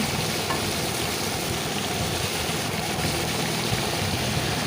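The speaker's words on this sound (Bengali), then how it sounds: "এঁচোড়টাকে একটু ভালো করে আমি ভেজে নিচ্ছি" Raw jackfruit frying in a pan for a prawn dish, giving a steady, dense sizzle that holds level and close throughout with no voices.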